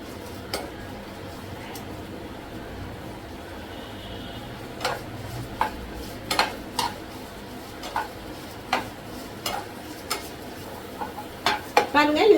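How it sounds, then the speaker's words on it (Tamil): Onions being sautéed in a pan are stirred with a utensil, producing a soft, steady sizzle broken by sharp metallic clinks and scrapes at irregular intervals, close and fairly quiet. "இப்போ வெங்காயமும் வதக்கி வச்சுக்கலாம்."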